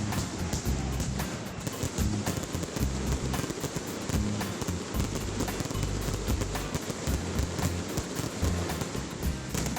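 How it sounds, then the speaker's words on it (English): Firecrackers and fireworks at the Fallas festival in Valencia crackle in a dense, continuous barrage of rapid pops and bangs that stays loud throughout. "they have the biggest firecracker and fireworks show"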